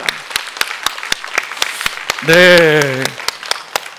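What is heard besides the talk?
applause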